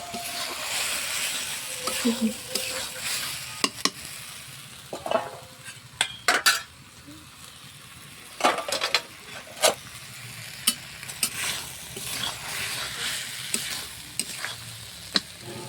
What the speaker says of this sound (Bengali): মাংস প্রায় কষানো হয়ে গেছে।